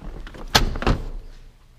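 A Buick Enclave power liftgate closing automatically: a sharp latch thump, then a second heavy clunk moments later, fading into quiet.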